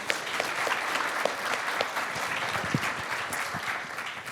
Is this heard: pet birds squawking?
no